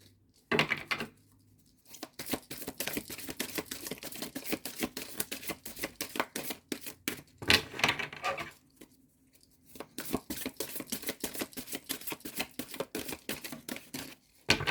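Rapid riffling of cards being shuffled, repeated fluttering bursts separated by short pauses, close and crisp.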